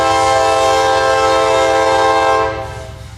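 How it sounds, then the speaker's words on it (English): Freight train Q213 arriving on the north leg of a wye into a rail yard west of Lakeland, its horn blaring loud, steady and close for about two and a half seconds before cutting off over the rumble of the locomotive. "On the north leg of the Y into the yard, I find a train arriving"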